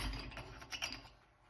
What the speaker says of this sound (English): And just take this nut off.